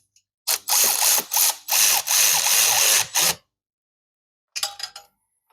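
A ratchet wrench run up on the exhaust flange bolts of a Yamaha R7 during a Dominator exhaust install: several loud, close bursts of rapid pawl clicking, then a pause and one short final burst.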